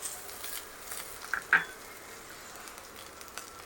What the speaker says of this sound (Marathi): त्यानंतर 1-2 मिनटं आपण छान परतून घेऊयात